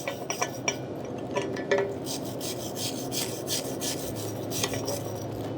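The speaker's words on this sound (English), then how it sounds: "every pass, you're going to be chipping and wire brush and clean." Wire brush scrubbed over a stick weld bead on a steel stump project, a steady close rasping scratch with quick repeated strokes and a few metallic ticks, no talk.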